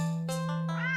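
A stranded black cat in a video game gives one short, clear meow, rising and falling over a steady low game hum.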